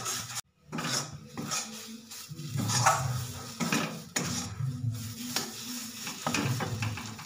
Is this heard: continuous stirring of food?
yes